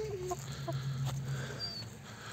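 A farm rooster in winter cold near a wrapped coop gives short clucking and calling sounds under a steady low hum, moderately close, with faint background noise and a thin whistle-like tone.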